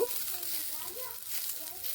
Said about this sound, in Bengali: বিনসগুলোকে এইভাবে নেড়ে বেশ ভালোভাবে ভেজে নেব